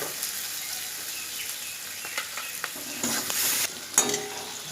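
Potato being stirred and mashed into frying chickpeas in a pan, a steady sizzle under repeated scraping and knocking of the spoon, a louder burst of sizzle near the end, no voices.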